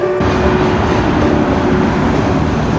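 A freight train rumbling loudly and continuously close by on the Illinois rail line, heavy low roar with steady rolling wheel noise and a faint tonal hum, no talk.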